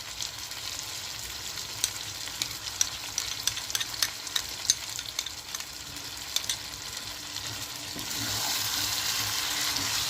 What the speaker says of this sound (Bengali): টক দইটা দিয়ে আবারও বেশ খানিকক্ষণ চিকেনটাকে একটু মিশিয়ে নেব